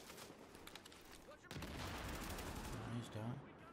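Heavy sustained gunfire in The Division, an Xbox One shooter: sparse shots at first, then from about halfway a dense, loud continuous barrage of rapid bursts, with a voice speaking briefly under the fire.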